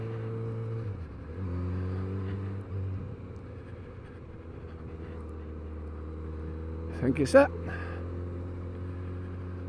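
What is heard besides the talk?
Kawasaki Z900RS motorcycle exhaust, Arrow 4-into-1 full system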